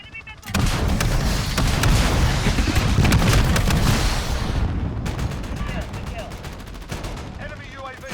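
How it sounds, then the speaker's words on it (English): An allied cruise missile strike in Call of Duty Modern Warfare brings dense, loud explosions and rolling gunfire in game combat, with a continuous roar that thins into crackling shots and scattered bursts. "Allied cruise missile away."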